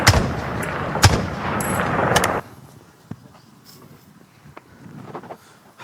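A stage gunshot rings out during a school performance of the Oliver Twist musical, a loud, sharp burst that lingers for a couple of seconds before dropping to faint scattered knocks and shuffling.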